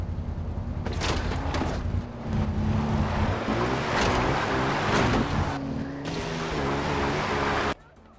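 Vehicle driving in Far Cry 4, a steady engine roar with rushing wind and road noise, fairly loud, with a voice talking over it before the sound cuts off abruptly near the end.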